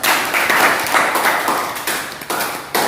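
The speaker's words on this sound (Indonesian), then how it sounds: "terima kasih tepuk tangan." Students in a classroom clap after a physics presentation about springs, a brisk, close burst of hand claps that thins out with short breaks toward the end.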